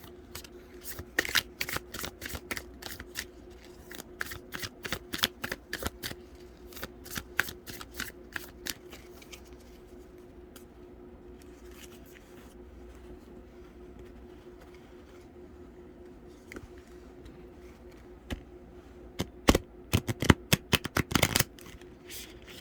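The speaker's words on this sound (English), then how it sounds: "I've already done some pre-shuffling with the cards." A deck of tarot cards is shuffled repeatedly at close range, bursts of crisp riffling clicks separated by quieter pauses, with a faint steady hum underneath.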